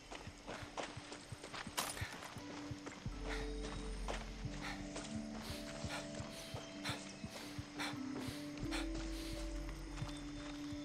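A horse's hooves clip-clop at a steady walking pace in the video game Far Cry 6, over a low, continuous game soundtrack with a droning musical bed.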